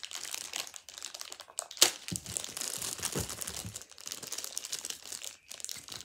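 Crinkling plastic packaging from a birthday package being opened with scissors, with constant rustling and crumpling close up and a sharp snip or tear near the start.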